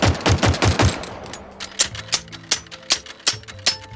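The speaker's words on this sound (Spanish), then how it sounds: "Si un jugador dispara cuando no tiene balas, estos sonidos mecánicos de máquina de escribir le indicarán que se ha quedado sin municiones." Halo video game weapon effects: a fast burst of sharp gunfire-like clacks, then slower, spaced typewriter-like mechanical clicks signalling an empty gun, loud and close with no voices.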